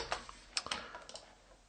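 Short bursts of typing on a computer keyboard, several crisp close key clicks in an uneven rhythm over quiet background, no voices.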